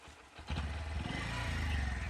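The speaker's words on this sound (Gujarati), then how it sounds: "અમે બાઇક પર બેસી ગયા છીએ અને બાઇકને ચાલુ કરી છે." A motorcycle engine catches and runs with a steady, close putter after a brief quieter moment, loud and continuous to the end.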